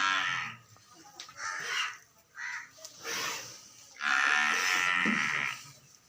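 A Nili buffalo at a farm sale in Pakistan lets out several low moos in short bursts, a longer call near the end, with crows cawing in the background.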